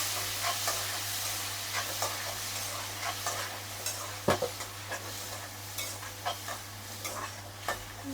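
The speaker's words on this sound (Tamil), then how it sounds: "கடுகு நல்லா பொரிஞ்சிடுச்சு. இப்போ இதை நல்லா வதக்கி விட்டுடலாம்." Curry leaves and mustard seeds sizzle and sauté in hot oil for sambar, a soft steady frying hiss with intermittent spoon stirring taps against the pan and a low hum underneath.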